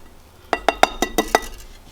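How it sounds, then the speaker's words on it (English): Six sharp clinks ring out as a utensil strikes the side of a bowl while whole wheat flour and sugar are mixed, evenly spaced and close, with no talking. "Mix this really well."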